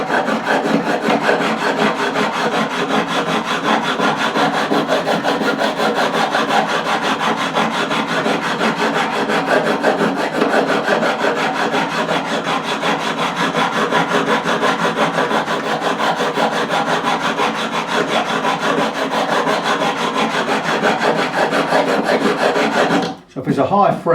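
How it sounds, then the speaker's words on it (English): A diamond fret levelling file rasps back and forth across the frets of a 1957 Hofner President guitar, giving close, steady, rapid scraping strokes that run continuously and stop just before the end. "this levelling file, fret levelling file, does not mess about"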